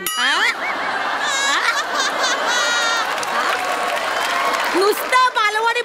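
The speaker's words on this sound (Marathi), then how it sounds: "नुसतं बालवाडी म्हटलं तरी टाळ्या वाजल्या रे" Studio audience applause and laughter during a Marathi television comedy sketch, steady clapping under excited voices and a bell-like ding, continuous and fairly loud.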